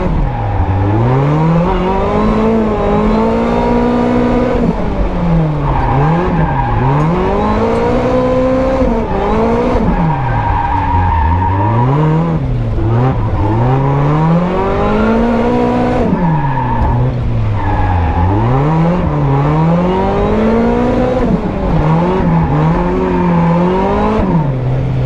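A Toyota AE86 drifting on a track at an import car show event, engine revving in continuous rising and falling sweeps while tires squeal in a loud, sustained wail, close and dominant for the whole stretch without talk.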